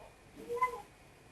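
A cat gives one short meow, faint and brief, rising mid-clip above a quiet background hum.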